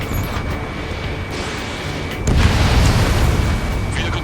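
Vehicle explosion in the video game Ace Combat 7 at night, a deep booming blast that swells out of a steady rumble partway through and lingers as a loud roar.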